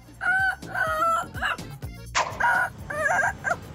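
A voice imitating a rooster crowing, several drawn-out cock-a-doodle-doo calls in quick succession, close and clear.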